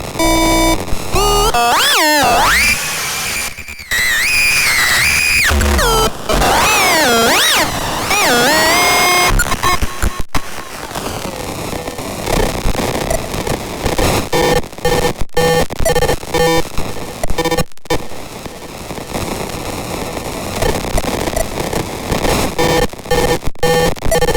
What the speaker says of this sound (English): you will generate insane noise and glitches